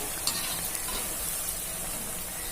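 Sweets fry in hot oil with a continuous bright sizzle and faint bubbling, steady and close, with a few small stirring clicks and no voice.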